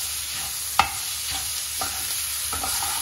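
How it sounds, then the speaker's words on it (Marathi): Green chili paste sautéing in a pan for Maharashtrian black chana usal, a steady close sizzle and fry hiss with a sharp spoon clink and a few soft stirring scrapes. "आता हे व्यवस्थित आपण परतून घेणार आहोत"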